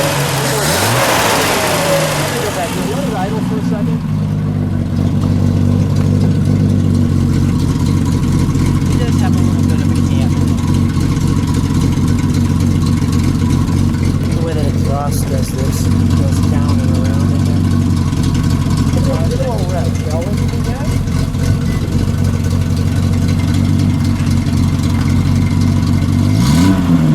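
Close up, a 1973 Triumph TR6 engine idles with a steady low burble, broken by several short revs that rise and fall, while someone talks intermittently nearby.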